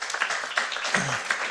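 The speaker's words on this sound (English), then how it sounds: "Let's give them a round of applause." An audience at a general assembly gives a brief round of steady applause, the clapping moderately loud and filling the room.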